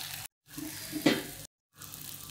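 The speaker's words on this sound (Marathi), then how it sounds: "आता हे परतून घ्यायचं चांगलं." Dal baati ingredients are sautéed in a traditional pot, giving a close, steady sizzling and frying sound broken by two short silent gaps, with a brief louder scrape partway through.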